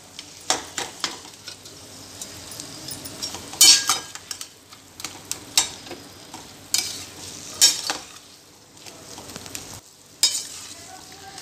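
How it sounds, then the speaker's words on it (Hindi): Mashed potatoes are stirred into fried masala with mustard seeds for a samosa filling, giving repeated scraping, stirring bursts over a steady close sizzle. "अब मैं इसमें ये आलू मैश किए हुए मिक्स कर रही हूँ।"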